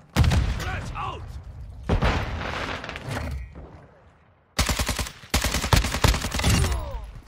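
First-person shooter video game gunfire comes in several loud bursts of rapid automatic shots, separated by short pauses and a quiet stretch near the middle.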